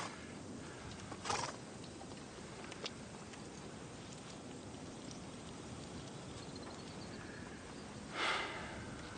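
Horses of a 19th-century army battery, heard in a grainy steady background: a snort or whinny near the start and another toward the end, with faint hoof movement and no talking.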